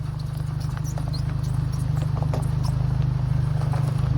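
A truck tire rubbing against the fender makes a rhythmic thump that repeats rapidly under a low droning engine hum, steady and close, with faint scraping noise on top.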